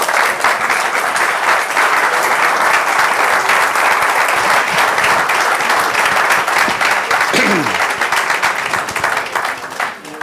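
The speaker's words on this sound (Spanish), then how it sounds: "Yo creo que merece un aplauso" Audience at a lecture on the future of the nervous system giving sustained, loud applause, a dense even wash of clapping that fades slightly near the end, with brief background voices.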